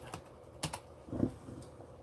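A few quiet keystrokes on a computer keyboard, sparse soft clicks tapped close by with short pauses between them.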